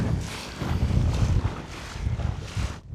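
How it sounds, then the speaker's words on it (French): Gusting wind buffets the microphone in loud surges on an island shore while waves slosh and splash beneath, rough and close, with no voices. "Le vent se lève et les vagues deviennent plus fortes."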